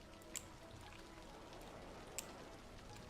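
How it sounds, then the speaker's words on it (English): Steady rain falling in the city-building game Cities: Skylines, a continuous soft hiss with scattered drip-like ticks, moderately faint and without talk. "Rain, rain, go away, stop flooding my city."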